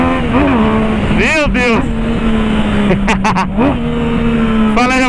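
A Yamaha MT-09 motorcycle engine drones steadily and loud, with revs rising and falling across several throttle blips, while someone speaks over it.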